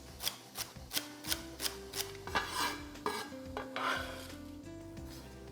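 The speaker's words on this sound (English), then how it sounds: "we're gonna mix all those vegetables together, and we want to just soften them in the pan" A spoon scrapes and clacks in a rhythmic pattern as diced carrots, celery and other vegetables are stirred in a pan to soften, with a soft sizzle underneath and bright tonal ringing throughout.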